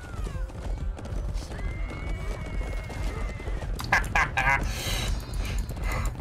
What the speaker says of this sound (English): Oh, my horse died.